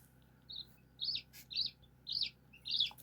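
Faint high-pitched chirps from newly hatched chicks in an incubator, five short peeping bursts spaced roughly evenly over a quiet, low background hum.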